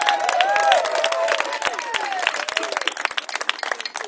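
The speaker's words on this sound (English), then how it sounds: "Big cheer for David Graham." Outdoor crowd at a Freedom Convoy gathering in Canberra cheering and clapping, a burst of whoops and shouts settling into rapid, crackling applause that thins out toward the end.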